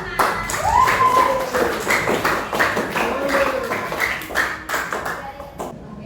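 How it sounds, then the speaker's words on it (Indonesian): Classroom students clap for a presenting group in an uneven burst of hand claps mixed with voices and chatter, fairly close and lively for a few seconds. "Sekali lagi tepuk tangan untuk kelompok 5"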